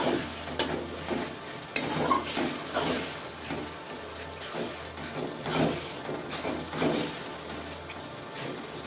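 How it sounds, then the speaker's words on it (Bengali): Ginger garlic paste is stirred in ghee in a hot pan, a steady close sizzle with repeated scraping strokes of the spoon against the pan. "ঘিয়ের সঙ্গে মিশিয়ে দিলাম, একটু নাড়বো।"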